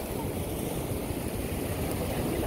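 Rough sea waves crashing on the Guatemalan coast form a constant, loud roar of surf and wind noise throughout, with no clear break and no talk.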